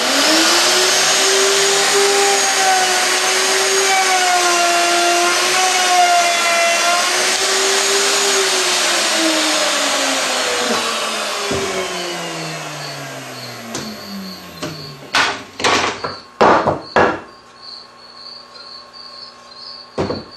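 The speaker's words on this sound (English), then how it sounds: "Takes a little bit of getting used to control a router freehand." An electric router used freehand on wood sends out a loud, high motor whine that holds steady and then winds down in pitch, followed by a few sharp knocks and clatters.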